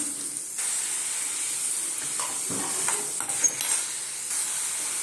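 Onions and green chilies fry in a pan as tomato pieces go in, giving a steady, close hiss of sizzling oil that changes slightly partway through.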